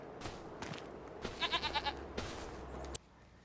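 A goat bleats in a short wavering cry amid other brief animal sounds in the video game Farming Simulator 25, with the ambience cutting off abruptly at the end.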